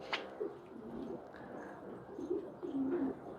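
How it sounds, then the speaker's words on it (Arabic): A pigeon coos on a rooftop, sounding low and soft in a few repeated phrases over faint outdoor background noise, with no talk. "الله طير جميل وامور"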